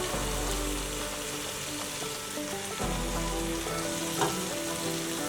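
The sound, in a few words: biryani masala frying with mushy tomatoes in pan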